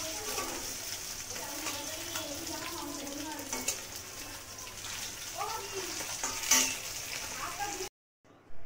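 Pieces of catla fish fry in hot oil with a steady, close sizzle and occasional stirring clinks, continuing under a speaking voice until the sound cuts off briefly near the end.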